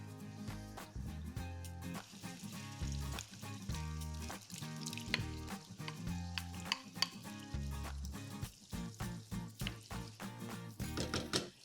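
Tomatoes stirred into a sizzling sauce in a pan while cooking Greek beans, with spoon scraping and clinks over soft frying under music, in irregular bursts of stirring.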